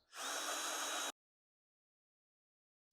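Power drill driving a screw into wood for a greenhouse wall frame on an Alaska homestead, one loud whirring burst of about a second, then silence.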